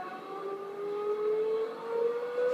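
Recorded car exhaust revving played from speakers hidden under a car, a rising tonal engine whine that climbs steadily over a few seconds at moderate volume.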